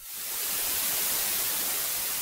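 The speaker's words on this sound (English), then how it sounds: "Some tape hiss" A steady wash of synthetic tape hiss from the rancorSynth synthesizer, bright and broadband, fading in quickly and holding constant.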